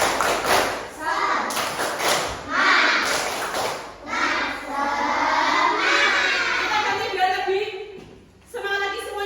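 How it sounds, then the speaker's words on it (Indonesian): Schoolchildren at an elementary school perform a rhythmic 'tepuk semangat' clapping chant, bursts of patterned claps mixed with lively children's voices and an adult teacher speaking, loud and close in a classroom. "Tepuk semangat dulu, tepuk semangat."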